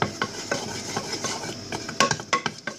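Butter melts in a pan for chocolate fondant as a utensil stirs it, giving soft irregular scraping and clinking taps, close and fairly faint, with no talk.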